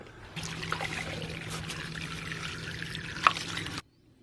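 Water pours out of a removed pool filter cartridge in a soft steady trickle for a few seconds, quiet and close, with a faint click before it stops abruptly.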